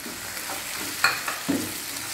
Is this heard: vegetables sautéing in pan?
yes